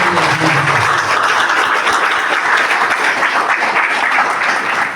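Loud, dense applause from a crowd at a law college gathering, steady and sustained throughout with many hands clapping at once, near and full, a voice briefly audible at the start.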